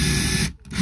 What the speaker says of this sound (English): you will need the combi with the masonry drill bit to your preferred size